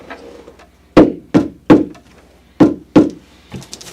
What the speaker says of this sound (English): do as much hammering down on that as possible